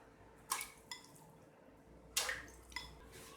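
Pieces of chicken dropped into four cups of water in a pressure cooker make a few soft splashes and wet plops, two bursts spaced apart, close and fairly quiet.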